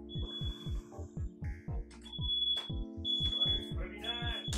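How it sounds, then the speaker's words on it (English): A smoke alarm in the video game The 25th Ward gives repeated high-pitched beeps in short bursts. They sound at moderate volume over a steady rhythmic pulse of background music, with no talk. "Assuming someone set the smoke alarm off."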